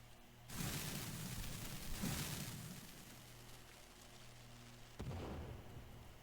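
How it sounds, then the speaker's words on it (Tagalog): Deep booming blasts in the survival video game The Forest: a heavy explosion with a rumbling tail, a second boom moments later, then another sharp blast near the end, fairly faint overall and with no talk. "Ano yun? May sumabog."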